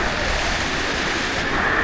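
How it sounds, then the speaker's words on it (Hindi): The Nashalla waterfall in a pine forest near Manali, Himachal Pradesh, sends up a continuous broadband rush of falling water. It is loud and steady, with no voices. "यहाँ पर झरना बह रहा है"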